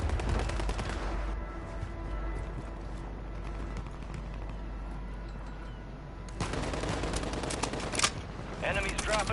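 Automatic gunfire in the video game Warzone 2, a loud, rapid burst of shots late on that follows a quieter stretch of ambient rumble and scattered sounds.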